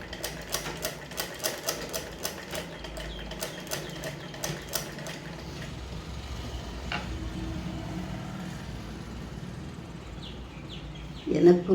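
A sewing machine stitches lace onto a pillow, giving a quick run of rhythmic mechanical pulses for about five seconds before fading into quieter room sound, with faint voices in the background.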